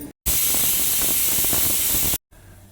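A pressure cooker of chicken sambar vents a loud, steady burst of hissing steam lasting about two seconds, starting and stopping abruptly.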